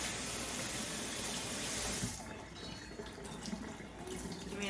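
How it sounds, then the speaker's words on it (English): Cool tap water runs steadily while a short wig is rinsed under it, a close, full rush that turns softer and more splashy as the hair moves through the stream. "I'm just rinsing it out with water that's cool, but not too cold"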